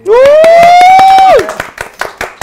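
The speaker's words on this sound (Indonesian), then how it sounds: "Tepuk tangan mulu nih gue." Close, rhythmic clapping from a few people during an indoor interview, with a loud sustained rising tone over the first half before the claps continue on their own.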